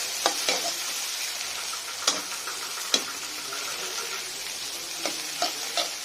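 Egg, tomato, green chilli and rice fry in a pan while being stirred, a constant bright sizzle broken by a few scraping knocks of the spatula against the pan.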